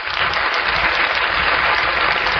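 Dense, steady applause fills a church or gathering hall as a crowd claps continuously for several seconds, loud and close with no talk over it.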